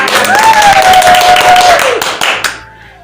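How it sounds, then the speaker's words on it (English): An audience applauds a guest, Mr. Dedi Sulaiman, as he is welcomed onto a talk segment. Dense, loud clapping runs for about two seconds with a sustained tone over it, then thins out and fades. "Please applause to Mr. Dedi Sulaiman!"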